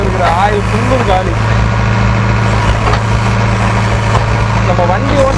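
A JCB 3DX backhoe loader's diesel engine runs in a steady, loud idle-like drone throughout, working at a leaking highway water line, with someone talking over it.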